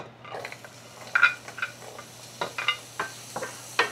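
Onions fry in a pan while a utensil stirs them. Soft scrapes and taps recur irregularly over a faint sizzle, close and fairly quiet.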